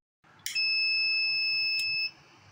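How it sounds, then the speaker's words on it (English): A buzzer on a Raspberry Pi flame-sensor fire detector sounds a steady high-pitched electronic tone for about one and a half seconds over low hum, then stops abruptly, with no talking. "whenever flame is detected by the flame sensor, buzzer sound and alert is sent to the phone"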